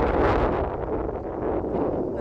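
Strong wind gusts across a mountain hilltop on Rattlesnake Hill, a steady, loud roar with rough buffeting against the microphone and no voices.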